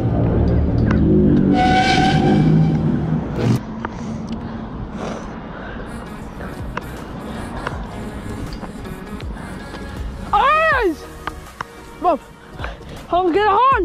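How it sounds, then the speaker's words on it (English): A vehicle horn honks in a loud sustained blast near the start, followed by excited children's shouts and whoops close by. "Honk the horn!"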